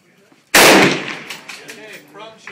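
A single close, loud gunshot from a firearm cracks sharply and rings out in a decaying echo, while faint voices can be heard before and after it.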